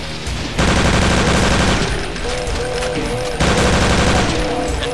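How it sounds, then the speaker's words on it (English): MP40 submachine gun firing in Brutal Doom 2 on GZDoom, loud sustained bursts of rapid automatic fire in two long volleys, separated by a short lull, amid game effects. "get out the MP40"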